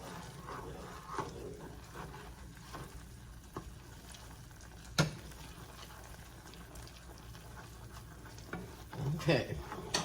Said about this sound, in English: I'm gonna bring it back to a rolling boil